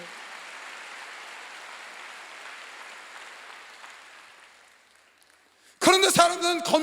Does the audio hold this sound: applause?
yes